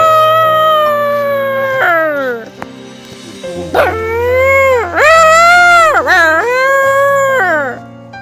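A person imitates a dog at a house barking and howling at another dog passing by, with loud, close, drawn-out voiced howls and yelping barks rising and falling over several seconds.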